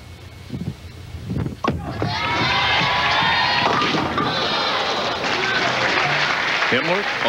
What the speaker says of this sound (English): Listen to the crowd go up if he picks this one up.